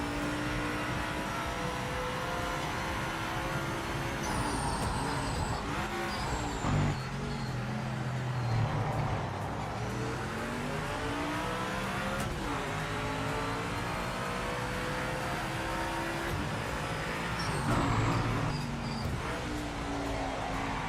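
A Group C racing car engine in Project Motor Racing revs and shifts through rising and falling sweeps, loud and continuous, with competitor engines passing close by.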